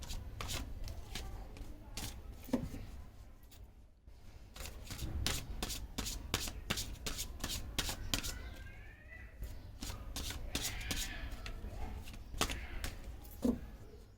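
Tarot cards are shuffled and handled in a quiet room, producing repeated sharp riffling flicks and soft slaps at an irregular pace, close and fairly faint.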